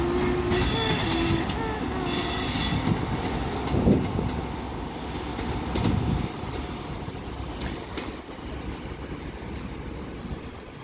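A passenger train with Class 43 power car 43187 at Bristol Temple Meads station gives high, sustained wheel squeals over a loud rumble of rolling stock and rail noise, close by and without talking.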